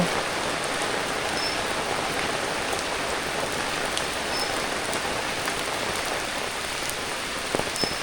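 Rain falls steadily on a rooftop garden, a dense unbroken patter with scattered close drips standing out against the even wash.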